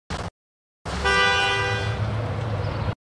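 A car horn used as a sound effect in an edit sounds a short clipped blip, then after a silent gap gives one sustained, loud, steady honk of about two seconds that cuts off abruptly.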